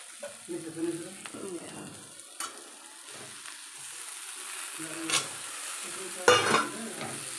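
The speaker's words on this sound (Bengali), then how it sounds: "বেগুন দিয়ে দেবো।" Eggplant goes into a pan and is stirred while frying, giving a soft sizzle with a few scraping stirs and clanks, fairly quiet and close.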